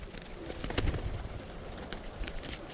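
Soft, low cooing of Birmingham Roller pigeons drifts in faintly, a few brief calls over quiet background noise.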